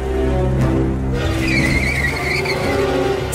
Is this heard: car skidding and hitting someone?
yes